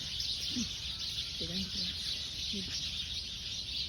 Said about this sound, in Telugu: వాటి యొక్క కిలకిల రావాలి వినే నేను బయటకు వచ్చాను